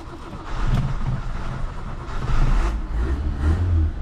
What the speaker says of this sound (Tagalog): engine start now